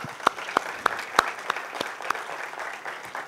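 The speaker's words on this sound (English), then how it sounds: "So can I request to give a big round of applause to our" Scattered, unhurried claps from a small audience thanking the panelists at a caste census discussion, about seven separate sharp hand claps spaced irregularly against a quiet room hum, never building into full applause.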